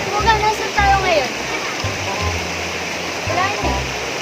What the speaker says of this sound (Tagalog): Yan ang ating talon.